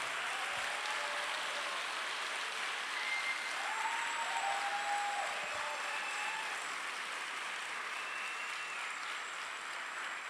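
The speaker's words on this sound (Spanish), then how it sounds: "un aplauso para Nati Saracho, diputada cartonera" A crowd at a political rally in Argentina claps continuously for a congresswoman, an even wash of applause with faint whistles and cheers riding on top and no gaps.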